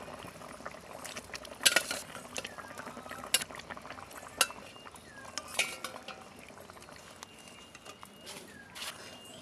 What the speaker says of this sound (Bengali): এই দেখেন জলটা ফুটে গেছে।